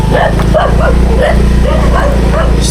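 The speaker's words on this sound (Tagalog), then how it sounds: "Ang daming aso rito" Several dogs bark and yip at an isolated cemetery, close and continuous over a steady low engine-like hum.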